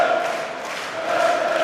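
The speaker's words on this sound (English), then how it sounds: "causing the crowd to raise their voices even further in his favour" Darts crowd at the German Darts Championship lets out sustained cheering and raised voices after a 146 checkout, a steady, dense roar of many people filling the hall throughout.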